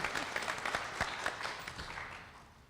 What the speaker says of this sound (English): We get another round of applause for Asia for being so brave.